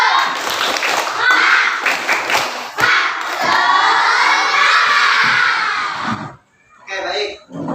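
A classroom of children shouts a loud group chant and claps in unison, a burst of rhythmic claps followed by a long sustained shout, then a short pause and some scattered voices at the end.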